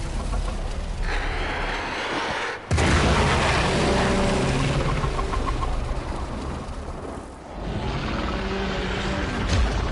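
A large in-game explosion in the Warframe Heart of Deimos mission, a sudden loud boom near the three-second mark followed by dense rumbling debris and ongoing noisy game ambience, with faint cooing bird-like tones woven through.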